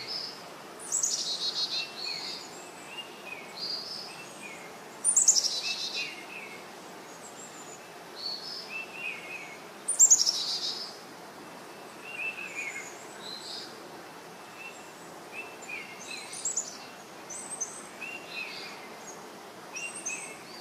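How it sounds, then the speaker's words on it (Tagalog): Several birds chirp and sing among trees in a rural countryside setting, with bright repeated calls and a few louder bursts over a soft, steady background of insects. "mga huni ng ibon."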